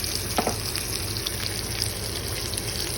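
Steak in a pan on low heat gives off a steady, continuous sizzle and soft bubbling, close and even, with an occasional faint clink and no talk.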